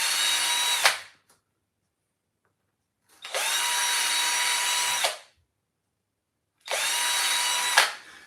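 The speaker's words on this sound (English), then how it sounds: "drill a hole in each one because you have to go inside here" A 2mm drill bit boring holes into a woodcarving, three separate high whining bursts of about two seconds each, close and loud, with silent pauses between them.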